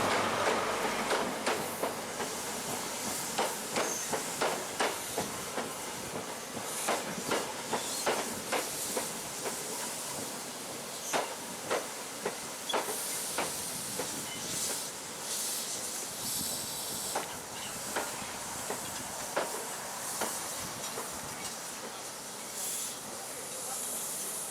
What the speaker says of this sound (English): our train passes the loco shed and turntable, relics from another age, as the train slowly snakes its way into the platform